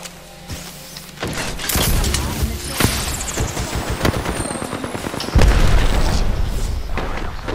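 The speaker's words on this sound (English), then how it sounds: "There's somebody down the hill shooting" Gunfire crackles from someone shooting down a hill, a run of sharp shots and bursts, some distant and some louder, with a heavy boom near the end and brief talk mixed in.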